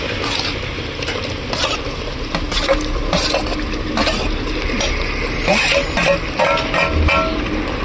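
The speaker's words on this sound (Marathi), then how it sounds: "वजडी मस्तपैकी मिक्स करायची मसाल्यामध्ये" Chopped roasted vajadi (tripe) being stirred into masala in a pan, a steady scraping and clattering of spoon against metal with a soft sizzle underneath, continuous and close throughout.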